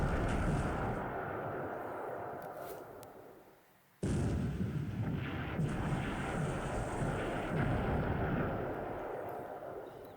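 Heavy rumbling blasts roll continuously, with a sharp cutoff and a renewed loud boom partway through, as 250-kilogram bombs strike a ship amid battle noise in the game War in the Pacific: Admiral's Edition.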